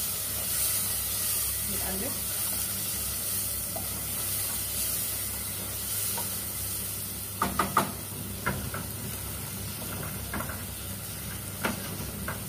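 Onions fry in a pan for fish with rice, a soft steady sizzle and hiss running throughout, with a few sharper clicks and stirring clatters from utensils partway through.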